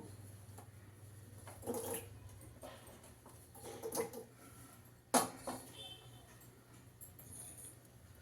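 Cut amla (Indian gooseberry) pieces are dropped into water, making faint, scattered plops and light clinks, with one sharper splash partway through. The sounds are quiet and close.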